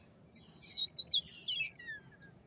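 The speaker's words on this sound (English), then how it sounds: "listen to my birds" Bright, high bird chirps and tweets in quick bursts over a quiet outdoor background, no voices.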